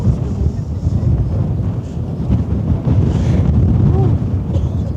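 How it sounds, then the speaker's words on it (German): Wind gusting across the open deck of the AIDAnova cruise ship during a sunset sail away toward Norway, a steady low rumbling buffet against the microphone with a faint wash of sea beneath. "Sag mal, nimmt der Wind zu oder?"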